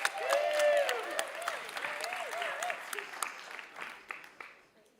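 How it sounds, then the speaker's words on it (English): Audience at a Sundance Film Festival evening event breaking into applause, a burst of clapping that starts loud and fades over several seconds while a voice speaks over it. "Huge round of applause to all of you."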